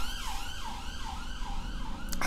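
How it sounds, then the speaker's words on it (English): Ambulance siren passing outside, a wailing tone rising and falling in steady repeated sweeps, clear and fairly loud through the room, ending with a brief noisy burst. "guys, sorry about the ambulance"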